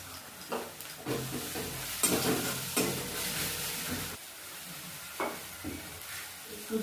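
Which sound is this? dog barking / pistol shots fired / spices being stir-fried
spices being stir-fried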